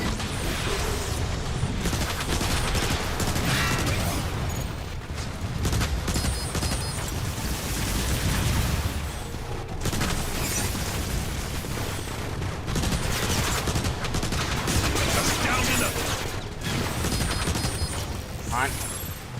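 Gun turrets keep up sustained heavy fire amid booms and battle noise in Transformers: War for Cybertron, with voices speaking over the continuous barrage.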